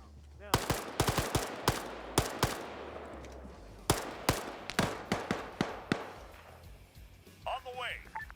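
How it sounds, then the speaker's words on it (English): Mortar fire in a military shooter game lands as a long series of sharp, booming impacts in irregular bursts, some close and loud, others fainter, with radio chatter mixed in. "Mortars are gonna engage now."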